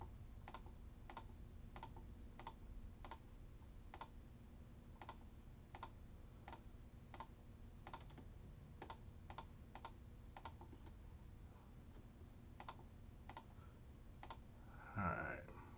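A computer keyboard and mouse click steadily and evenly during a Logic to Pro Tools session export, faint and close, with a brief louder bump near the end.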